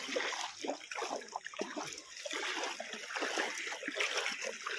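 Floodwater splashes and sloshes around the Durga temple in a faint, continuous run of uneven bursts and trickles.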